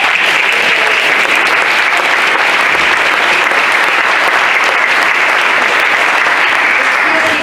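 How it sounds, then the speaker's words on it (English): Steady, dense applause from a ceremony audience at a remembrance event for the SS John D. Gill, filling the whole stretch at close range with no voices over it. "I'd like to give a round of applause to the Granddaughter"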